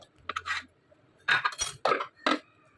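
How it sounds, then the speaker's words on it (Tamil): Idlis lifted and set into a hot pack casserole, then the lid closed: light clinks and knocks of metal and crockery in short separate bursts, close and clear, with no talking. "இப்போ வந்து இட்லியை எடுத்துகிட்டு ஹாட் பேக்கில் வச்சு மூடிடலாம்"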